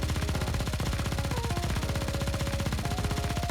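Rapid automatic gunfire from the video game Goddess of Victory: Nikke, a dense, steady stream of shots with a faint tonal game sound running underneath.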